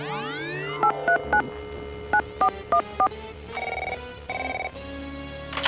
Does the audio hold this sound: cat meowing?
no